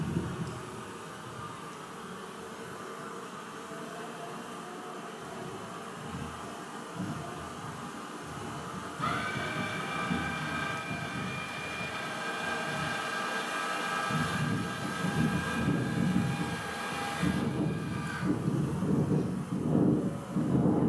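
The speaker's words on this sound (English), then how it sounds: "this is just to show you how it looks when all the drones come out and how it sounds also." Swarm of honeybee drones pouring out of their colonies at a queen-mating apiary: a steady, dense buzzing drone that swells louder partway through and holds, with a faint higher whine layered on top and no voices.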